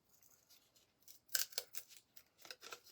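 Scissors snip through paper to cut out shapes for a lighted floral book craft, a quiet run of close, crisp cuts that start soft and grow into several sharper snips in an uneven rhythm, with no talking.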